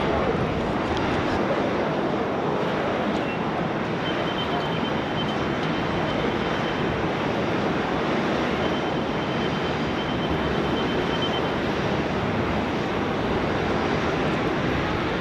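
Jet airliner, Fiji flight 910, taking off from Sydney Airport runway 16 right, a loud steady engine roar holding throughout without letup.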